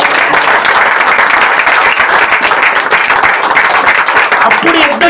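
Congregation clapping hands during a church prayer service, loud, fast, continuous rhythmic applause from many people filling the whole stretch, with some voices mixed in underneath.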